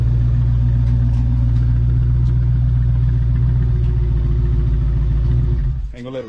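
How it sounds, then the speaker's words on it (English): A 2022 Dodge Charger with stock exhaust idles with a deep, steady exhaust rumble close by, then cuts off abruptly near the end, leaving quiet. "Fully stock exhaust."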